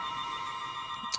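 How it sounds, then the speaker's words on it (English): A telephone rings steadily in the background of a room, an electronic tone held throughout at moderate level with a brief louder burst near the end. "And that is the phone ringing."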